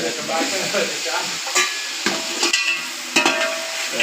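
Tomatoes and chillies fry in a pan for biryani, sizzling steadily as a utensil stirs and scrapes, with several sharp clinks against the pan.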